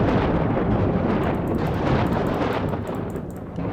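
Thunderstorm in the god-simulation game WorldBox: a dense, continuous roar of rumbling thunder and rain, loud and steady and slowly easing, with no talking.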